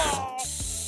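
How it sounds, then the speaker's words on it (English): A short cartoon spray effect for medicine sprayed at viruses, a quick hissing burst with a whirring, mechanical edge, alone and loud, under a second long. "Let's defeat the bad viruses by spraying medicine!"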